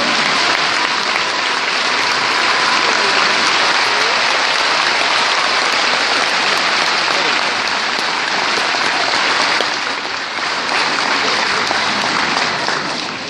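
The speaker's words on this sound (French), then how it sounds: "je pense que vous pouvez déjà l'applaudir bien fort." A symphonic concert audience applauds loudly, a dense, sustained roar of clapping from a large hall crowd that stays strong for the full thirteen seconds with a slight dip near the end.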